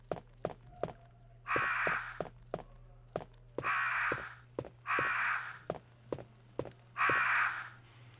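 Crows caw in loud, rasping bursts inside a room in the PlayStation game Resident Evil. Four calls come at irregular intervals, with footstep clicks between them and a steady low drone underneath.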